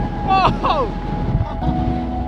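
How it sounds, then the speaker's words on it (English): Strong wind on a high spot in the Lake District roars and buffets the microphone with a low, rumbling blast; faint whistling tones rise briefly near the start. "it's windy up here"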